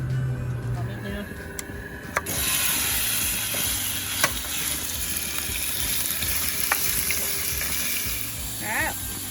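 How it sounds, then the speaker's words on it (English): Steady hiss of beef browning in hot oil at a campsite, a continuous sizzle with a few faint clinks and brief voices in the background. "Once it gets nice and hot and the oil starts to sizzle, then I'll add my meat."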